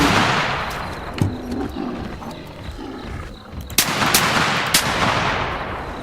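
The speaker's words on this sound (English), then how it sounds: "I'm just unloading all last 7 of these bullets" A rifle in The Hunter Classic hunting game fires at an animal, with a few loud sharp shots spread over a steady, dense roar of in-game background noise and no talking.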